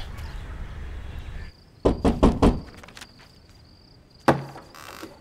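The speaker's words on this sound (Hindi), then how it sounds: "मैंने तुम्हें कितनी बार कहा है कि खटखटाए मत" Someone knocks on a door in a Hindi thriller film, four quick raps in a tight burst followed by a single later knock, heard fairly close over a faint room hum.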